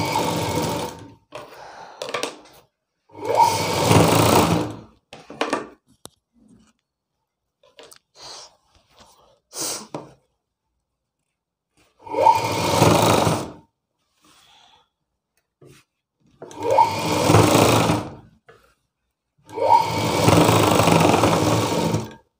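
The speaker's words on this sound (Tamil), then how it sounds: "இப்போ இந்த பின்பக்க கழுத்தில் நம்ம வந்து ஒரு தையல் போட்டுடலாம்." Sewing machine stitching the back neck seam of a blouse, running in five separate loud bursts of a few seconds each with quiet pauses and faint handling noises between them.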